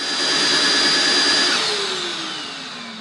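An IFLOOOR 5 Steam cordless vacuum runs its brush self-cleaning cycle, giving a loud, steady motor whine and whoosh that gradually winds down, its pitch sliding lower toward the end.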